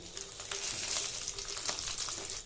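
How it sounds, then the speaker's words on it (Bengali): Grated coconut frying in oil in a pan on a low flame, a steady close sizzle with faint stir clicks, heard alone throughout. "নারকেলটা বেশিক্ষণ ভাজবো না, গ্যাসটাকে লো ফ্লেমে রেখে 1 মিনিট মতো ভেজে নেব।"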